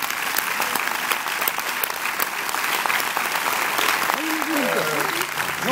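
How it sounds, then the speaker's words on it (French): Audience applause at a film preview screening in a cinema, a steady dense clatter of many hands clapping throughout, with a faint voice emerging near the end. "Et puis on peut l'applaudir, on peut l'applaudir."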